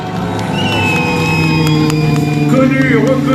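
A crowd at a 2018 motorcycle stunt show in Orvault cheers and whoops for stunt rider Romain Jeandrot, steady and loud, with a voice over a public address and sustained tones running underneath.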